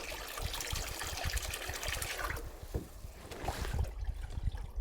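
Water trickles and splashes into a container outdoors on Svalbard, a steady wet dribble with irregular clunks, continuous and fairly close throughout.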